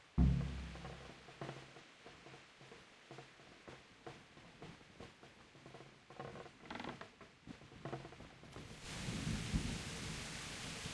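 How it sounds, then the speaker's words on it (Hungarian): Heavy rain and thunder at night in the medieval game Kingdom Come: Deliverance, with a close thunder crack at the start followed by rolling rumbles and a dense, steady downpour that swells louder toward the end, no voices. "Szakad az eső, éjszaka van"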